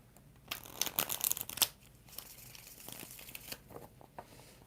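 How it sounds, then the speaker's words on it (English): Tarot cards are shuffled up close in a quiet room, a quick burst of papery riffling and slapping followed by a softer second round of shuffles and light taps. "And 2 more shuffles for Kanchan Burma, the doctor."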